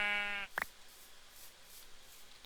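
A single short sheep bleat from the Goety video game, faint and clear, followed by a couple of soft clicks and quiet background.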